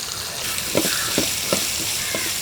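Chopped onion tipped into hot oil where fennel seeds are already frying, giving a loud, steady close sizzle with a few rhythmic stirring scrapes and no talking.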